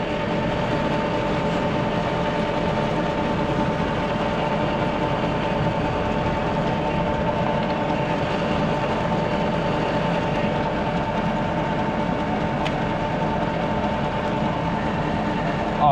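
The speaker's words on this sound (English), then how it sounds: "That's why that PTO pump is still running." A tractor PTO pump running while a sprayer tank agitates, a continuous mechanical hum with a steady whine and faint rattles, loud and unchanging throughout.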